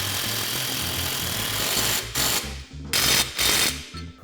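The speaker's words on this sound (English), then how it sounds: "Now we're going to go ahead and tighten the ball joint bolts." An impact or power tool tightens ball joint bolts on a Polaris RZR during a GDP portal gear lift install, giving several short bursts after a steady mechanical drone, each burst loud and close with brief pauses between.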